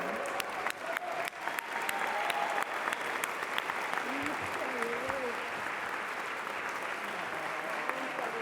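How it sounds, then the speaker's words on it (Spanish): Audience applause greets Minister Lenia Batres Guadarrama at a Mexican Supreme Court closing activities report, a sustained spread of clapping with sharp individual claps near the start, some voices and cheering underneath, fairly distant and moderate in level. "Recibamos con un muy fuerte aplauso a la ministra del Pueblo, Lenia Batres Guadarrama"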